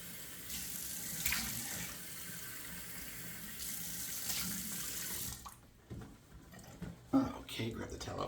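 Tap water runs steadily into a sink as a face is splashed before shaving, with someone talking over the flow; the running water cuts off partway, followed by a few close wet splashes and handling sounds.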